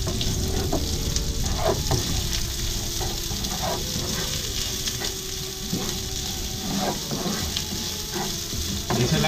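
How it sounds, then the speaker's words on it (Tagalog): Onions sautéing in a pan for a corned beef kaldereta, a loud, continuous hiss and crackle up close, with the occasional knock of a stirring utensil. "Igisa lang natin siya siguro ng mga 30 seconds hanggang sa maging lumambot itong ating sibuyas."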